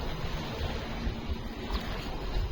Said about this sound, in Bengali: জলের আওয়াজ এত জোরে, হ্যাঁ সজল এত জোরে জলের আওয়াজ